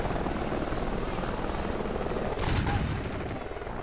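A helicopter in Call of Duty: Ghosts multiplayer on Xbox One makes a steady, loud rotor drone that fills the whole clip, with a brief louder swell midway and no voices.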